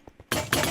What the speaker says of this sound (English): Fire grenade down.